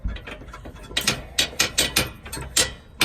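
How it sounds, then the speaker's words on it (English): A 22mm ratchet and socket tightening the nut on a rear trailer hitch bolt for a Dodge Ram, a series of quick metallic ratcheting clicks in bursts with short pauses, close and clear, no talking. "using a 22mm ratchet and socket, and just tighten that down"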